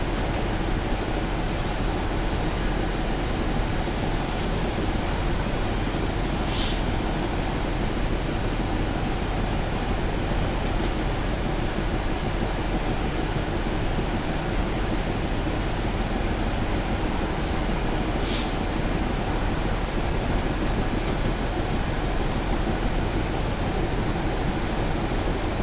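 Union Pacific GTEL gas turbine locomotive in Train Simulator on Sherman Hill, a steady, continuous broadband roar and whine that holds at an even level throughout with faint higher tones now and then.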